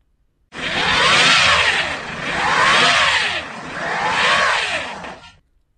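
A car engine revs hard in three loud surging bursts as the stuck car, mired in a deep puddle, fails to move.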